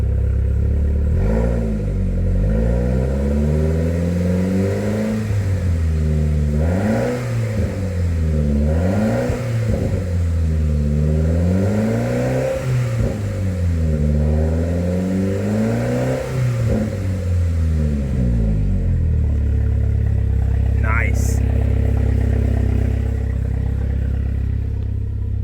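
A Saab 9-5 turbo engine idles and revs with a temporarily patched rusty exhaust flange, steady rising and falling revs close by, then settling to a low idle with a faint pop near the end.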